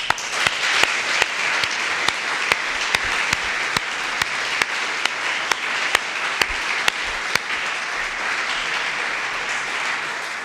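Audience applause at a graduation ceremony, a sustained even wash of many hands clapping, with one nearby clapper's sharp, regular claps standing out for much of it.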